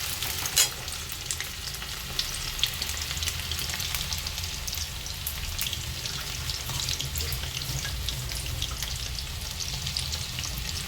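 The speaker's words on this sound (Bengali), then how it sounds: "ডিম দিয়ে ভাজছি, যেমন চিলি চিকেন করলে বা চিকেনগুলো যেরকম কর্নফ্লাওয়ার আর ডিম দিয়ে করে সেইভাবে ভেজে নেব" Soybean chunks coated in cornflour and egg frying in oil on medium heat, making a continuous crackling sizzle, with a couple of sharp clinks early on.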